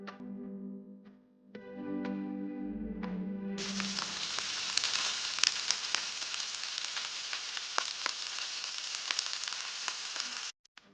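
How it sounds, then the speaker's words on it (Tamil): Ginger and garlic sauté in a hot pan, a steady close sizzle running almost the whole time, with a few soft clinks at the start and faint stirring scrapes on top. "இப்போ பச்சை வாசம் போகிற வரைக்கும் இஞ்சி பூண்டை நல்லா வதக்கிடலாம்"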